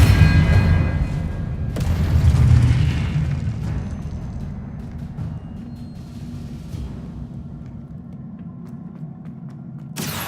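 A spell cast in the Hogwarts Legacy video game sounds as a loud, booming burst with a deep rumble. It fades into a lingering low drone, and a sharp crack comes near the end.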